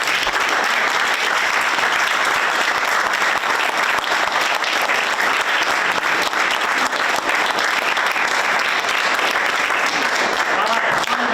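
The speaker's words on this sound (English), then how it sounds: "So give them a round of applause again." Sustained, steady applause from a seated audience at a village board of trustees meeting, honoring local firefighters, a dense wash of clapping that continues evenly for over ten seconds with some voices faintly beneath.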